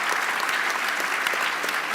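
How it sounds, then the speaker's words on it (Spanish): Steady applause from an audience at an annual members' gala, dense clapping filling the whole stretch with no pauses. "Un fuerte aplauso para él"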